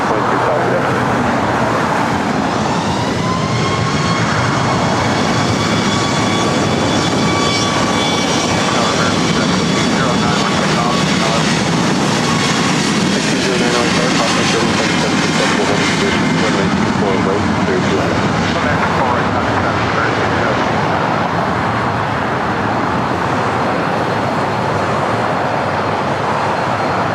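A jet airliner takes off from runway 24 right at LAX, its engines roaring loudly and continuously as the pitch shifts, with air traffic radio chatter over the noise.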